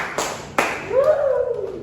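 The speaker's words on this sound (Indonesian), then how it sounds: "Tapi tepuk tangan dulu." Brief bursts of applause from a classroom of students during an Indonesian social studies lesson, two sharp clap onsets followed by a fading tonal ring, fairly close.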